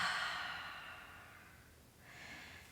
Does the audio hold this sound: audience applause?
no